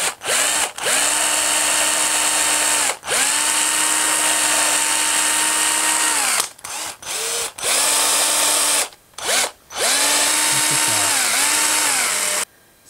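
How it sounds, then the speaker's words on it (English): A power drill whines loudly in several bursts while drilling a small pilot hole in wood, pitch rising and settling as it bites, separated by short pauses where the motor stops. "And I'm going to drill a little pilot hole."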